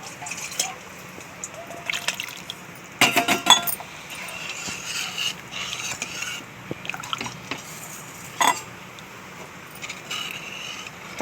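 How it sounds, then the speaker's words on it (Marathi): Water poured into a pot of tamarind dal, heard as soft liquid trickling with a few clinks against the vessel, including a brief burst of splashy clatter, fairly close with no talking. "त्यात लागेल तसे पाणी घालून घेऊ।"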